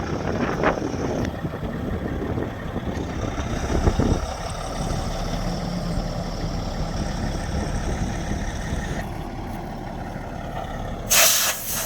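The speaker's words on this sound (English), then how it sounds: "I think the airbags are deflated on the trailer." Air hissing from the deflating airbags of a Kenworth truck's trailer, parked in Teslin, Yukon, a steady broadband rush lasting throughout over a low idling engine rumble, with a brief louder burst near the end.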